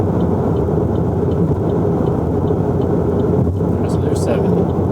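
A Chevy Cruze with an overheating problem speeds up toward 70 mph on the interstate, giving a loud, steady road and engine roar heard from inside the cabin, with no talk.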